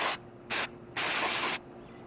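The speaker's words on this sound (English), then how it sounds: "You just want to just spray it out." Three short hissing bursts of aerosol MAF sensor cleaner sprayed into the mass airflow sensor of a VW Mk5 2.5, the last one longest, with quiet pauses between.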